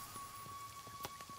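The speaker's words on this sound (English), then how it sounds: "Oh, it's a hailstorm." Hailstorm in the video game Nightingale: faint, scattered pattering of hailstones striking the ground in an irregular, sparse rhythm under a low, steady background hum.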